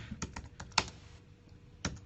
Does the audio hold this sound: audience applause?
no